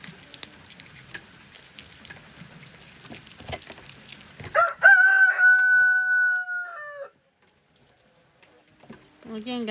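A rooster crows loudly and close by in one long, sustained call, with clucking chickens and guinea fowl chattering in the background before and after.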